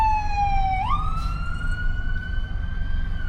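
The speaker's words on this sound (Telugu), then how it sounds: "Fire engine." A fire engine siren wails near a car crash and fire in Dayton, USA, one long tone sliding up and holding high over the rumble of street traffic.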